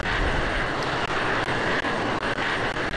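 A jet starter spools up on a fighter jet in the Falcon BMS flight simulator, a loud steady rushing whine and roar holding constant throughout, with brief dips and no talking.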